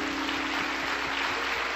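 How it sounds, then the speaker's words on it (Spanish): Congregation clapping for the Lord at a Spanish-language church service, a steady dense wash of applause throughout, fairly distant and even in level. "Den un aplauso al Señor"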